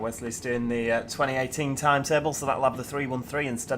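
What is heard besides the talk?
No distinct noise like a dog, phone or traffic.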